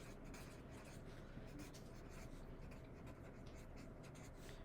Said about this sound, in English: let's go ahead and write the slope formula down